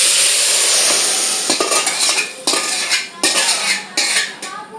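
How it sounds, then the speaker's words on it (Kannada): Cardamom powder being stirred into a sweet banana dish in a pan at home, with repeated scraping and clinking of a spoon against the pan over a soft background sizzle, close and steady, no talking. "ಇದೆಲ್ಲ ಹಾಕಿ ಮಿಕ್ಸ್ ಮಾಡಿಬಿಡ್ಬೇಕು"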